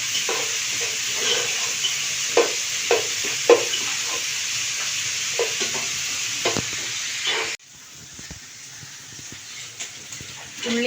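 An onion sizzles and hisses as it is stirred in a frying pan while being softened for a paneer and mushroom biryani. The frying is steady and close, with soft scrapes from the stirring, then drops abruptly to a quieter sizzle partway through.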